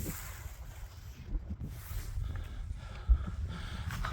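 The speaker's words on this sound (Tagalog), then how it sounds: "Yung hangin ang lakas." Strong wind on a mountain buffets the microphone in low, rumbling gusts, with a sharper thump near the end.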